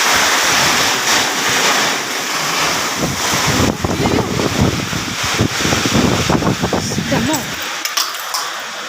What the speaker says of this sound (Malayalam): എന്താ പറയുക, പേടിയാവുന്ന പോലെ കാറ്റ്.